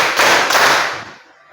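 A class of students claps their hands in unison in a classroom, a sharp, loud burst of close claps that quickly fades away with no talking.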